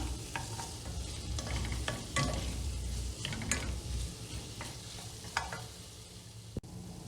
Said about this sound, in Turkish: salçamı da kokusu çıkana kadar kavurmaya devam edeceğim